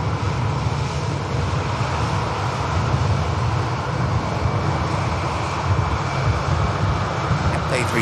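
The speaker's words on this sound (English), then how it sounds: "It's going to be the ATR with the ATR of Logan Air coming in from the Isle of Man" A Logan Air ATR turboprop arriving at Manchester Airport on a flight from the Isle of Man gives a steady, continuous engine drone, fairly loud and broad, holding throughout with wind-like rumble and no talk.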